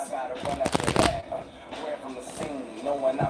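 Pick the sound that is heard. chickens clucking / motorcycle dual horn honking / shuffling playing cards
shuffling playing cards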